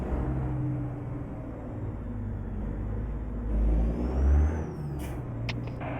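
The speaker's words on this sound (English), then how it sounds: "just listen to this truck." A truck engine in the American Truck Simulator game gives a low, steady rumble at moderate volume, with a brief swell and a faint rising whine and hiss near the end.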